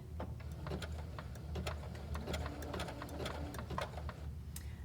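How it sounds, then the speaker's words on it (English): A sewing machine stitching fabric for a reusable produce bag runs a few stitches in reverse to lock the seam, then sews forward. It gives a quiet, steady, rhythmic mechanical clatter throughout, with no talking. "I'm going to back stitch again to lock that in. About 4 or 5 stitches, and then forward again."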